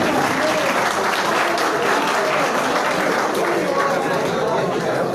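Loud, dense applause from a seated audience fills the air and holds steady throughout, with some chatter mixed in, at a pigeon club prize-giving ceremony in Sargodha.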